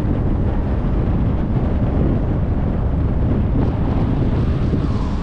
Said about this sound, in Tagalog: Kaso medyo mahangin mga kabisig.